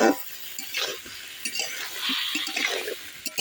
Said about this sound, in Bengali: এই অল্প জল দিয়ে আমি সবজি আর মশলাগুলোকে একটু ভালো করে কষিয়ে নেব